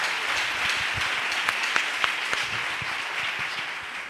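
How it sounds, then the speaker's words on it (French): A church congregation at a Pentecost service applauding and acclaiming the Lord, dense steady clapping from many hands with a few louder individual claps standing out, heard at moderate distance without clear voices. "Acclame puissamment le Seigneur."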